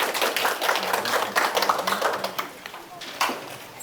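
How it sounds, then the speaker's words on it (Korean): An audience at a Korean public science lecture on stress and ACT matrix meditation claps to welcome the lecturer, a dense, steady patter of many hands that fades slightly near the end, with a voice briefly audible beneath it. "박수로 맞이해주세요."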